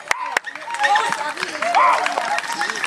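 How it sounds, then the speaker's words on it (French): At a regional dog show on Réunion, a crowd claps for the first-place dog's lap of honour, giving a continuous patter of applause under a voice speaking over it. "première place et un petit tour d'honneur sous les applaudissements"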